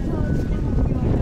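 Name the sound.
strong wind blowing on a beach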